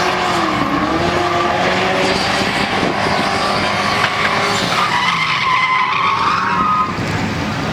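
Loud, continuous tire squeal from a Mustang skidding and shredding its tires at an Import Alliance car event, with engine roar and wavering screeches running the whole time.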